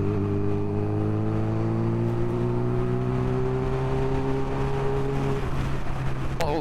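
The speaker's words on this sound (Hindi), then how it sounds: "there is a sweet whistle coming out 8000 RPM" Kawasaki Ninja H2 supercharged motorcycle engine holding steady near 8000 rpm, a loud, sustained close-up drone with a high whistling whine riding over it throughout, easing off at the end.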